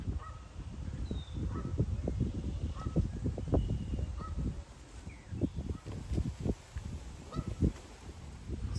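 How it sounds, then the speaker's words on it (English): A family of Canada geese honks repeatedly at moderate distance outdoors, the calls overlapping in an irregular series of short, nasal blasts against quiet background ambience. "Now we have a family of Canadian geese coming to visit."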